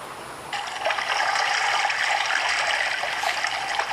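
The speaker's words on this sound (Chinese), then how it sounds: "听一下我们台西海潮的声音" Recorded sea tide sound from the coast of Taixi, played inside a former warehouse turned art installation: a steady broad wash of surging water, fairly loud and continuous, rising sharply after a quiet start with no talking.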